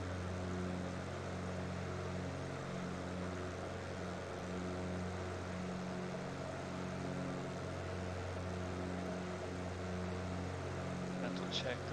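A Cessna 208 engine at full throttle during takeoff roll in Alaska: a steady, loud propeller drone with a strong tonal hum holds level throughout, filling the cabin with no break.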